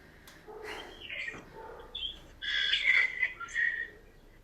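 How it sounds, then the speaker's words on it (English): Birds sing and chirp in bright, busy bursts at a moderate distance, with no talk over them, during an indoor home workout. "The birds are lovely,"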